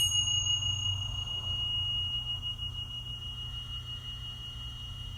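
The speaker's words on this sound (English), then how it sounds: "as you hear the sound of the Tingsha chimes" Tingsha chimes struck at the start of a hatha yoga class, a bright metallic ring that lingers and slowly fades over several seconds above a steady low background hum.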